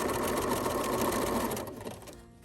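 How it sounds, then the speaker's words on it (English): A sewing machine runs steadily while stitching over the strap of a drawstring bag, a continuous close whirring that slows and tapers off near the end. "I'm going to sew all the way over the strap."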